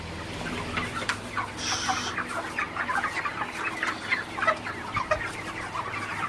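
Broiler chickens in a poultry shed cluck continuously as a dense flock, with overlapping murmurs and occasional louder calls over a steady low hum.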